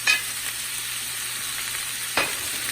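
Seafood gumbo vegetables sizzling and being stirred in a hot pot over medium-high heat, a steady frying hiss with two distinct scraping strokes, one at the start and one near the end.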